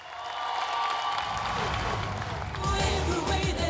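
A studio audience at a masked singing competition show applauds and cheers, a steady roar of clapping that swells louder near the end.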